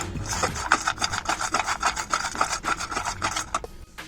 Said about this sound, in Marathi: बदाम वॉटरमेलन सीड्स पिस्ता हे सगळे ड्रायफ्रूट्स आधी आपण जस्ट थोडेसे रोस्ट करून घ्यायचे